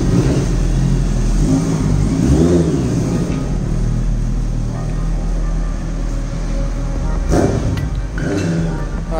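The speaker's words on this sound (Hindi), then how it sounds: "एक बार मैं आपको साउंड सुना दूंगा बाइक की।" A serviced Honda CBR 650F fuel-injected motorcycle engine idles nearby with a strong low hum, then revs in a few quick swells before settling again.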